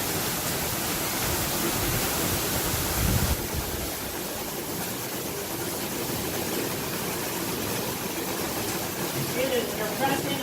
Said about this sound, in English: Right now we're just going to give you a demonstration with a water wheel.